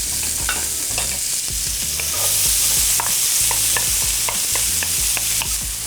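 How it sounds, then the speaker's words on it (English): Chopped carrots, onions and celery sizzle steadily in a hot pan, with a spoon scraping and stirring through them at intervals; close and continuous, with no talking. "So I'm gonna add my vegetables to the pan."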